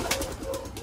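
Pigeons coo softly and continuously inside a loft, with a steady low hum and faint background noise throughout.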